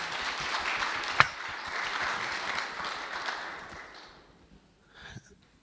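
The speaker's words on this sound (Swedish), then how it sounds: "jag tycker att vi ska ge dem en riktigt varm applåd här att börja med" A church congregation gives a warm welcoming round of applause during a Swedish worship service, steady clapping that fills the room and fades out toward the end, followed by brief murmuring.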